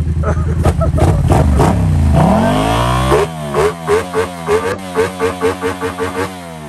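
A modified motorcycle engine with a loud, open uncut exhaust revs hard, climbing and falling, then settles into a choppy, pulsing idle of repeated throttle blips.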